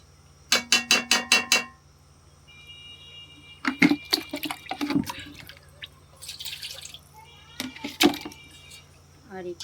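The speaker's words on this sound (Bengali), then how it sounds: "দেখো এর মধ্যে আমি জল দিয়ে দিলাম মাংস ছেড়ে ঝোল রাখার জন্য" Water poured into a pot of meat curry with potatoes, a quick run of sharp drips and splashes followed by scattered louder pours and trickles, close by over a low steady hum.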